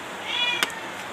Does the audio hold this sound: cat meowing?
yes